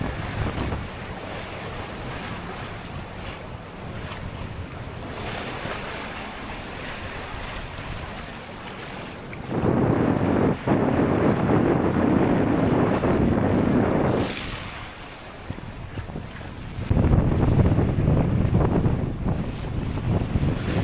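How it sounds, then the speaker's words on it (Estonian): A sailing yacht moves through waves in open water as wind buffets the microphone, with loud surging rushes of water and gusts rising and falling in uneven bursts, and no talking. "See on paras laine sellele jahile."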